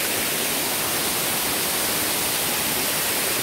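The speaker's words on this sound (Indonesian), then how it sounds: "karakter air terjun ini dia dibentuk seperti kolam-kolam" A waterfall shaped into a series of pools at the end of a trail ride, its roar a loud, even, unbroken rush filling the whole stretch with no voices over it.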